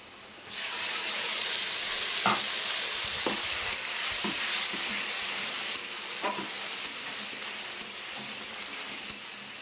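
Spices tipped onto onions fried red in a pan, a loud continuous sizzle that rises at once and holds steady, with a few light taps of a spoon toward the end.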